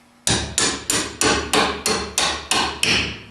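A hammer drives a bolt through metal links with eight sharp, evenly spaced strikes, each ringing briefly and fading before the next, loud and close with no talking.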